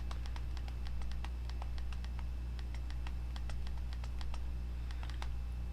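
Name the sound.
typing on BlackBerry Storm click touchscreen keyboard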